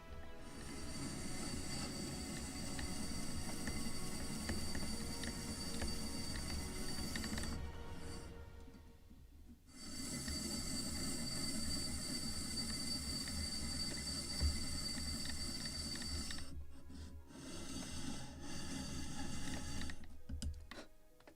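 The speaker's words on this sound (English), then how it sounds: "Good slight sanding." Steady rasping of sandpaper on a small wooden gun carriage part for a 1776 gunboat Philadelphia ship model, close and continuous in long strokes, broken by two brief pauses.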